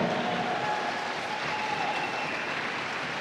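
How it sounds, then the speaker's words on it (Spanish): Church congregation applauding during a service, a steady washing roar of many hands heard from some distance with a faint sustained tone underneath. "Denle un aplauso fuerte a Cristo."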